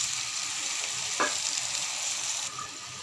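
Spice paste for a pomfret curry fries in a pan with a steady, close sizzle. Water poured in partway through makes a brief, sharp burst. No one speaks.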